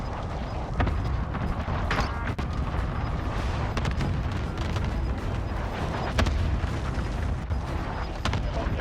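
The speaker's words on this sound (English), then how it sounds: "Good copy. Cluster strike away." Cluster strike explosions in Call of Duty Warzone thud and crackle as a steady barrage of booms and mechanical rattles, loud and continuous, with sharper blasts scattered through it.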